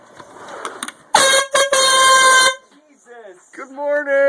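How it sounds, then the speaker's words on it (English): A loud air horn blares in a small room, two long piercing blasts with a brief break between them; a voice shouts afterward. "It's Air Horns Friday!"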